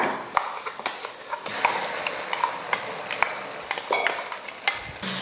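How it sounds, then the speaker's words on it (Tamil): Ground masala frying in oil with onion and garlic for an anchovy fish curry, a continuous sizzle broken by repeated spatula taps and scrapes against the pan, close up. "மசாலாவும் அந்த எண்ணெயில் வதக்கிக்கலாம்."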